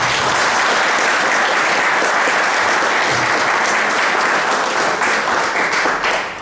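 An audience gives a loud, sustained round of applause welcoming a guest speaker to a lecture, with dense steady clapping that stays full and fades slightly at the very end.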